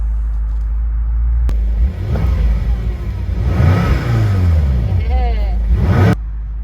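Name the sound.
2013 BMW M6 Convertible accelerating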